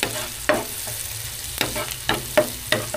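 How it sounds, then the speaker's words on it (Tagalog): Garlic frying in a pan while being stirred, with spoon scrapes on the pan surface cutting through a steady light sizzle, close and moderately loud. "Haluin pa natin kasi medyo hilaw pa yung ating bawang."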